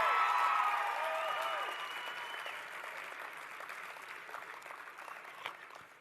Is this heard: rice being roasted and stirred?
no